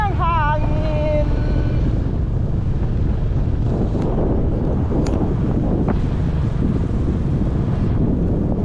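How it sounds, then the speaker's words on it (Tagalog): Strong wind buffets the microphone in a steady roar during a motorcycle ride, with a brief voice at the start and faint sounds beneath the rushing gusts. "Sarap ng simoy ng hangin."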